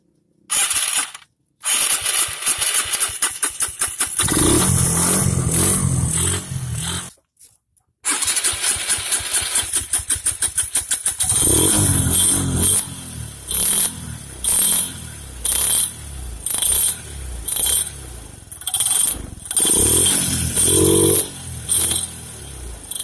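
Suzuki Sky Wave scooter, long unserviced and in poor condition, cranked and revved hard: rattling, ratchet-like mechanical clatter and engine roar in loud bursts, with gaps between attempts and choppy pulsing revs near the end.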